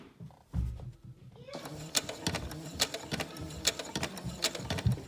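A sewing machine stitches a fabric face mask, starting after a brief pause and running in a close, steady mechanical whir with rhythmic clicking pulses, loud and mostly on its own.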